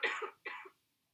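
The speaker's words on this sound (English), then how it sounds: "I'm going to cough right now" Two short, close coughs from a person with mucus in the back of the throat from allergies, the second slightly weaker than the first, then silence.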